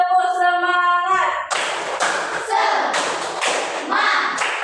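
A classroom of students performs a rhythmic clapping cheer, coming in as sharp group claps and thumps in a patterned beat after a brief sung or chanted tone at the start.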